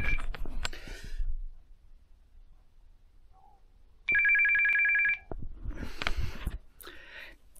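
A conventional landline telephone plugged into a campsite router rings once with a steady electronic bell tone lasting about a second, loud and close, between stretches of handling noise and low background sounds.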